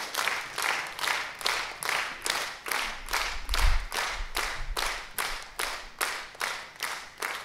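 A concert audience gives a long, rhythmic ovation for a guitarist, clapping together in even, repeated beats that swell a little partway through. There are no voices.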